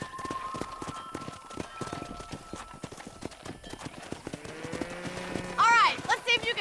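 Horse hooves clip-clopping at a steady run in the Red Dead Redemption video game, close and continuous for several seconds, with a brief whinny near the end and voices talking over the riding.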